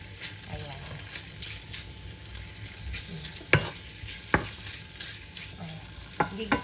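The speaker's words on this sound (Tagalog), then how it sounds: "Gigisa lang natin yan. Iba-brown natin yan guys." Pork sautés and browns in oil in a pan, a soft continuous sizzle with occasional sharp utensil clanks against the pan, while a person talks over it.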